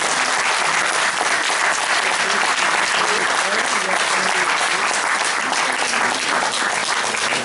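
An audience applauds at the close of a lecture on Victor Hugo in Nice. The clapping is dense, steady and sustained for the whole stretch, and no voices rise above it.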